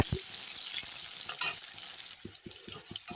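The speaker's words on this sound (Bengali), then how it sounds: "দেখো আলুগুলো ভেজে নিলাম" Oil sizzles and crackles steadily as potatoes fry in a pan, with the soft scrape of stirring now and then; no speech.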